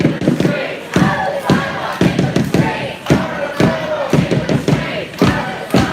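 A Black Lives Matter canned food march crowd chants in the street in San Luis Obispo, loud and close, in rhythmic repeated bursts with thumping beats between the shouted phrases.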